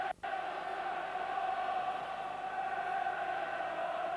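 Aberdeen football supporters in the stadium at a European Cup match against Bayern Munich, heard as a distant, sustained roar of crowd chanting and noise, steady throughout after a brief dip.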